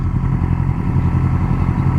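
Yamaha R6 sport motorcycle fitted with a Graves slip-on exhaust, its engine running with a steady, loud, close rumble throughout.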